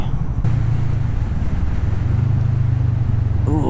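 A Kawasaki Vulcan S motorcycle engine drones steadily and close as the bike accelerates, with a low, even throb under wind rush and a brief rise in pitch near the end.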